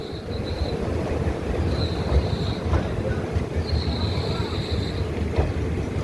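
Train pulling into Bandel Junction in Hooghly district on the Paharia Express, giving a steady rumbling rail roar with intermittent high-pitched wheel squeals and faint clicks.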